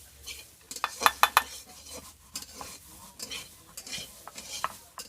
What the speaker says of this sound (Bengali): কালো জিরেগুলো ভেজে রাখা হয়েছিল ওইটা বেটে নিচ্ছি